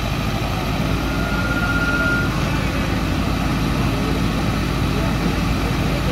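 A line of tractors at a farmers' rally in Punjab, including Mahindra, John Deere, Farmtrac, Sonalika and Swaraj models, rumbles in a loud, steady, close engine drone with a faint high whine running through it.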